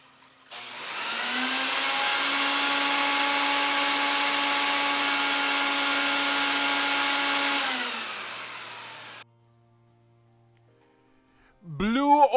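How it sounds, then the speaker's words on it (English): A vacuum cleaner on an Oriental rug whirs up to a steady loud whine for several seconds, then powers down and winds off into near silence before a brief noise. "Now the vacuum."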